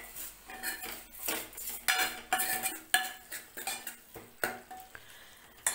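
Tomatoes for garlic sambar sautéing in a pan, with a utensil repeatedly scraping and clinking against the metal in an uneven rhythm over a light, close sizzle.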